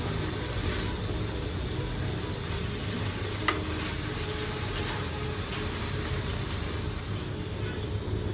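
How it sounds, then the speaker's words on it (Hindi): Vegetables stirred in a pan over high heat for chicken pasta, a steady sizzle and frying hiss with faint scraping, quiet and constant with no voices. "वेजिटेबल्स भी डाल देंगे। और तेज़ आंच पे इसको फिर से मिक्स करना है।"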